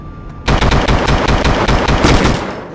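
Rapid automatic gunfire from the video game 25 to Life, loud sustained bursts of close shots that start abruptly and keep rattling without a break.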